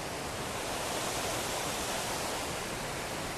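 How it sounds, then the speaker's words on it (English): Tom Gill waterfall in the Lake District pours with a steady, dense, unbroken rushing roar that holds an even level throughout with no voices. "there's a big waterfall down there too"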